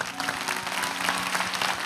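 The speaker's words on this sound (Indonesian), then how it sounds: "Kasih tepuk tangan untuk Tuhan." A congregation at a church service applauds, producing a steady, dense wash of crowd clapping that holds at moderate level throughout the brief moment.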